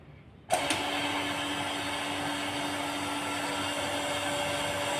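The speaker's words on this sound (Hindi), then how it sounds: "तो चलिए इस वैक्यूम पंप को ऑन करते हैं और आपको दिखाते हैं।" A vacuum pump switches on abruptly and settles into a steady, loud electric whir with a constant hum, running continuously as it evacuates a vacuum chamber during a Boyle's law balloon demonstration.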